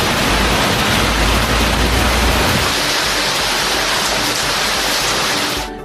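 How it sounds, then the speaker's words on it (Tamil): Heavy rain with wind pours down steadily over the Sirkazhi area of Mayiladuthurai district, Tamil Nadu, a dense, loud hiss of falling water that persists throughout and cuts off at the end. "மயிலாடுதுறை மாவட்டத்தில் சீர்காழி சுற்றுவட்டார பகுதிகளில் அரை மணி நேரத்திற்கு மேலாக மழை பெய்தது."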